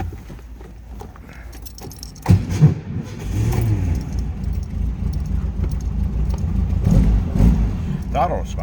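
A 1965 Volkswagen Beetle engine cranks and fires, catching with a loud burst and then settling into a steady mid-pitched idle. A voice speaks over it, close by.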